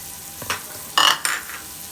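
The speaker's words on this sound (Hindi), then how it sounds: "तो प्याज हमने डाल दिया है। तो अब इसको तकरीबन हम हाफ़ ब्राउन करेंगे 5 मिनट के लिए।" Onions frying in oil in a pan while being stirred, with short scraping stir strokes over a soft steady sizzle, three brief louder bursts near the end.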